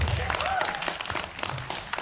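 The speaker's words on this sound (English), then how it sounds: "let's give a big round of applause for each and every single one of you being here today." A crowd at a speech gives a round of applause, a short burst of mixed clapping heard alongside speech and crowd noise.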